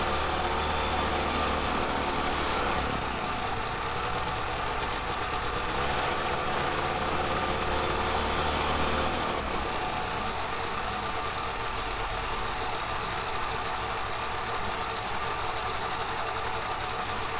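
The engine of an EMG-6 electric motor glider runs continuously with a loud, steady whine and hum inside the cockpit, its tone shifting slightly partway through.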